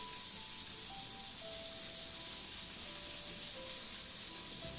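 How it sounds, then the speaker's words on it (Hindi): Steady, broad sizzling hiss of dahi vada batter dumplings frying in hot oil, continuous and fairly close, with no voices. "बड़े हम फ्राई करना शुरू कर दिए मैंने।"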